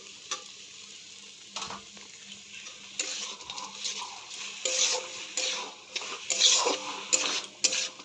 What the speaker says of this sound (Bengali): লেবুগুলোকে দিয়ে হালকা একটু নেড়ে নেব।